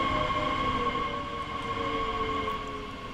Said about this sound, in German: da ist ein Kollege, fährt vorbei im anderen Zug